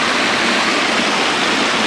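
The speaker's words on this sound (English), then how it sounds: "These waterfalls are just all over the place here in Oklahoma." Oklahoma waterfall: a dense, steady roar of rushing water, loud and close, constant throughout with no voices.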